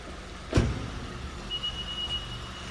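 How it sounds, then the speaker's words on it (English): A thud, then a thin high-pitched electronic ignition-on warning tone sounds steadily for about a second inside a quiet Honda with push-button start, key outside the car. "The car is telling you that the ignition is on"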